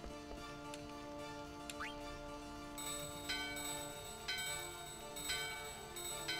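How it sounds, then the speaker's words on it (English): Bells ring in Final Fantasy IX, bright sustained tones with a few sharp struck accents scattered across the passage, moderately loud and alone without speech. "The bell in your hand and the doorbell ring."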